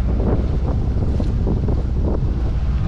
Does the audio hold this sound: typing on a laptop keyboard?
no